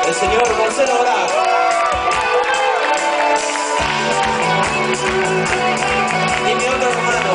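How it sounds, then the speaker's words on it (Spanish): A crowd at a live concert at Niceto cheers and applauds, a dense steady roar of claps and shouts with band tones ringing underneath, continuous and loud throughout. "Un aplauso para mi mejor amigo"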